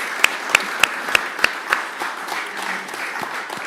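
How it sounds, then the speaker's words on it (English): A crowd applauds steadily, with a few sharp, close claps standing out at the start before the clapping settles into an even patter. "If we could give them a round of applause"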